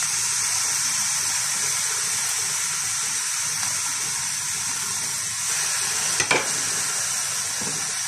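Fried rice with sausage sizzling steadily in a hot pan as dark soy sauce is added, a constant hissing fry with a brief louder splash of liquid near the end, no voices.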